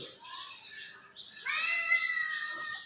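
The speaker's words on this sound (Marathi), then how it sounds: "अक्षरची खूप लाडकी मांजर आहे" A pet cat, a much-loved house cat, meows and makes soft mewing cries at close range, with a stronger, sustained call in the second half; no talking is heard.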